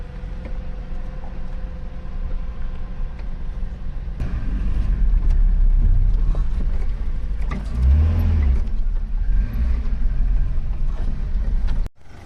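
A car drives downhill toward an old Shiv temple near Chail, Solan, with a steady low engine rumble and road noise that swells midway, interior creaks mixed in, ending with an abrupt thud.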